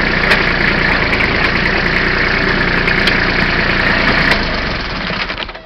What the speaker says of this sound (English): big old John Deere right here. 6215 John Deere.